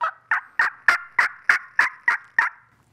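A hunter's diaphragm turkey call imitates a hen turkey's yelp: nine loud, evenly spaced, raspy notes in a steady rhythm, close and alone, ending in quiet.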